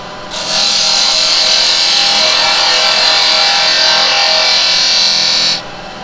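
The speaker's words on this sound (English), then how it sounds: "I'm going to use a spindle gouge to start off with" A spindle gouge cuts into wood spinning on a woodturning lathe, giving a steady, loud hissing shear that holds evenly for about five seconds before stopping abruptly, with no voices.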